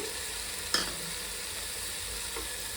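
Ginger garlic paste frying in oil and ghee for ghee rice, a soft steady sizzle with one sharp scrape of a spatula early on, quiet and without talking.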